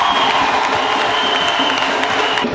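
A large church congregation applauds and cheers for Jesus Christ, producing dense, loud, continuous clapping with voices mixed through it.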